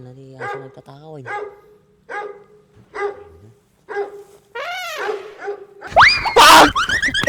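A large dog barks again and again in short, close bursts spread across the clip, while people talk and shout around it.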